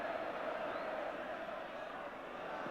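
Coventry City fans at an FA Cup quarter-final against Sheffield Wednesday roar in a steady, distant stadium cheer, a broad wash of crowd noise running evenly throughout.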